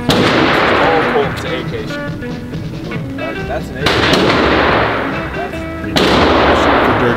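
AK rifle fired fully automatic at an outdoor shooting range: loud, close bursts of rapid shots with sharp onsets, several strings over a few seconds, ringing out between bursts.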